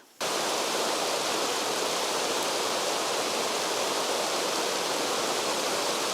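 Steady rushing of a waterfall in the Lake District in autumn, a dense, continuous broadband roar of falling water heard close and loud after a brief quiet start.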